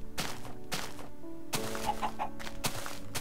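Chicken clucking in the Minecraft-style game YogBox, several short repeated clucks over a steady musical game soundtrack, no talking.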